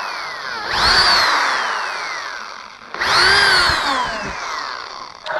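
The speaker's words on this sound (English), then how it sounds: "I'm going to recommend that you very quickly pre-drill your holes" A power drill bores two quick holes into a wooden Langstroth bee hive box, each a rising whine that slowly winds down, close and loud, followed by a short clatter at the end.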